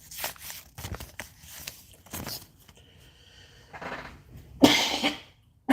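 Repeated coughing from a single person close by, several separate dry bursts spread across the moment with short pauses between, the last cluster harsher and louder, no talking.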